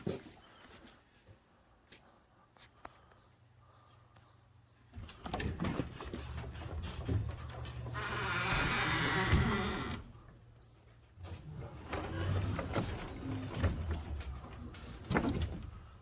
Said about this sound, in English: you can hear the roller sound a little dry